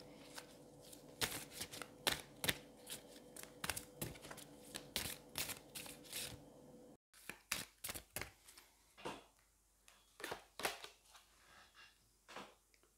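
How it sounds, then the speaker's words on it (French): Oracle cards from The Elemental deck being shuffled and drawn by hand, a steady riffle of crisp papery flicks and taps close up, pausing briefly midway, then sparser single card snaps. "on va aller prendre une carte de The Elemental justement pour voir un petit peu comment les énergies peuvent bouger"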